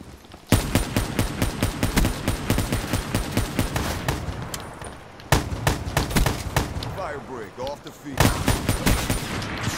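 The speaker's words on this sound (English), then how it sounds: "You're seriously using that shotgun?" Rapid, loud bursts of gunfire in Call of Duty Black Ops III come in dense volleys with short pauses between them, and a player's voice is heard at moments over the shots.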